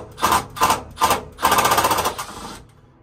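A power drill with a nut driver bit drives metal screws into a flame rod assembly plate, giving three short whirring bursts followed by one longer run that winds down.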